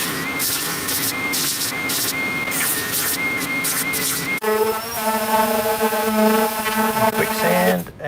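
Power sanding on a bass guitar body gives a continuous, loud, close whine and whir throughout, shifting to a steadier humming tone partway through, with no talking.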